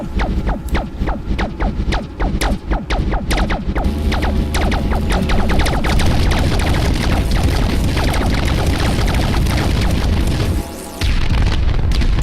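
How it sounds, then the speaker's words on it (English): Station crumbling and exploding in the video game Environmental Station Alpha: a dense, loud wall of rumbling booms and crackling blasts repeating rapidly for about twelve seconds, with one short lull near the end. "Yeah, the whole station will crumble. Destruction of all this."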